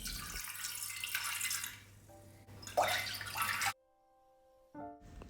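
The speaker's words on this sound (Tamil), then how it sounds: "இப்போ இந்த பால் இதில் ஊற்றிக்கலாம்." Liquid pours steadily into a pan for a few seconds, then the stream stops, followed by a short metallic clink.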